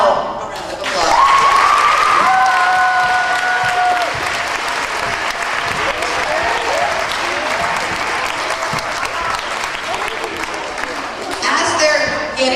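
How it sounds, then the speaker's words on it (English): An audience at a talk gives a sustained round of applause, loud dense clapping that swells and continues throughout, with a voice and some whistles or cheers briefly rising above it. "Now, a round of applause."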